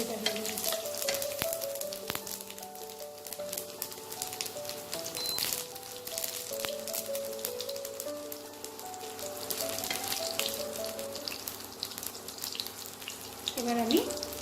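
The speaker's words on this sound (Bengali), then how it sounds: "এবার এই তেলে তেজপাতা, 2টো কাঁচা লঙ্কা আর জিরেটা দিয়ে দেবো।" Bay leaf, two green chillies and cumin sizzle in hot oil for a Bengali spinach dish. The frying crackles steadily and closely throughout, with soft kitchen clatter and a brief clink near the end.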